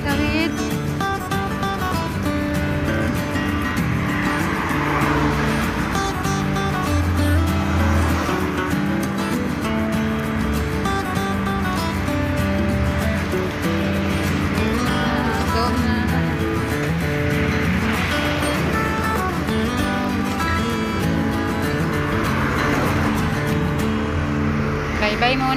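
Road traffic hums without a break as cars pass close by, with engine drone and tyre noise all the way through. People talk over the traffic now and then.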